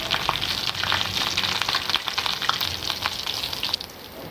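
Potato and egg kebabs fry in shallow oil with a close, busy crackle of popping bubbles that stays loud and even, then eases off near the end as they are lifted out; no speech.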